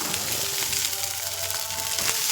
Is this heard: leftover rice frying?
yes